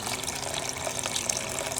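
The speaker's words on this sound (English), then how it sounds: "you add some water to the pan, and then a little bit of fresh Icelandic beer." Water and Icelandic beer poured into a pan at a van campsite in the cold Icelandic highlands, a steady soft splashing trickle heard quietly and alone.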